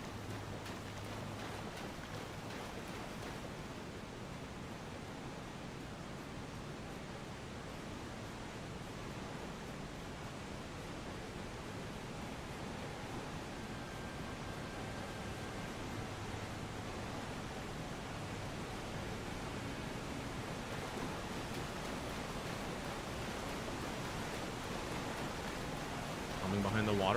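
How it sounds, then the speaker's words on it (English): A waterfall in the Elden Ring video game gives a continuous, soft, even rushing hiss that holds steady and grows slightly louder toward the end. "Behind the waterfall?"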